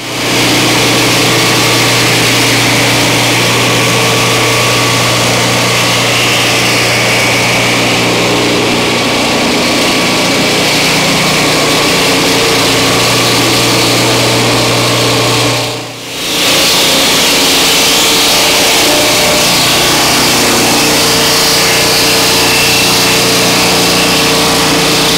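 A Turbosawmill blade skims slowly through a log, a loud, continuous engine-driven drone with a steady whine that holds for about 25 seconds, briefly dipping once partway before resuming.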